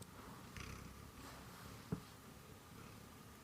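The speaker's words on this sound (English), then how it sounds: "You hear it purring?" A cat purrs softly and close, a faint low rumbling under a quiet room, with a brief louder bump partway through.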